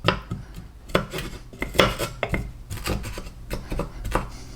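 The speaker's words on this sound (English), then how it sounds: "let's give this a little stir. Make sure that the olive oil is well worked in with these ingredients." Olive oil is stirred into ingredients in a pan on the stove: repeated close clacks and scrapes of a utensil against the pan come in an irregular rhythm, with no one talking.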